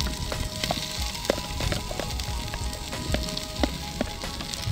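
Chopped onion and green chili frying in a pan of oil with garlic, a continuous crackling sizzle broken by repeated stirring scrapes and clicks, close, no talking.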